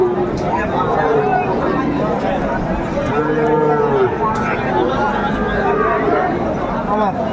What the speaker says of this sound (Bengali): শাহিওয়ালটার ষাঁড় বাচ্চা